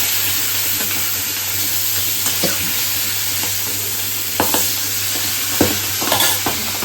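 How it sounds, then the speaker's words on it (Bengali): A fish fries in hot oil under a steady, close sizzle, with scattered sharp sputters and pops breaking through, alone with no talk. "আওয়াজ পেলে তোমরা কিরকম ফাটলো মাছটা।"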